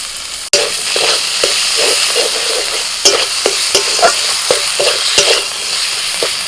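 Spices fry with chopped tomato and salt in a pan, a loud close sizzle broken by a sharp clank at the start and then repeated scraping strokes of a spatula stirring the mixture.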